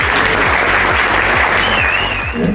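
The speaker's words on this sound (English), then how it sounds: "I want us to give them a massive round of applause." An evening gathering at an air race awards function breaks into loud, sustained applause for the media crew, dense hand clapping filling the room throughout, with a faint voice or tone rising near the end.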